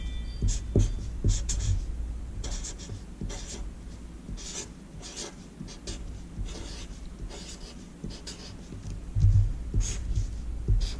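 Chalk or marker strokes on a classroom board as a teacher writes out a lesson on the Pythagorean theorem, a run of short scratchy strokes with pauses between them, close and moderately loud, with no voices.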